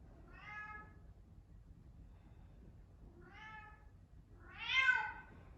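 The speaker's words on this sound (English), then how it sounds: "You can hear my cat." A cat meows three times, faint and a little distant, with the last meow louder and more drawn out; quiet room otherwise.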